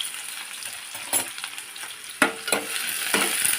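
Onions hiss and crackle in hot oil for an ivy gourd fry, a close sizzle broken by a few sharp clatters of stirring.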